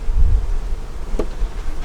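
Honey bees buzz steadily throughout an inspection of a double deep eight-frame hive, a close, continuous insect drone with slight shifts in loudness and no voices.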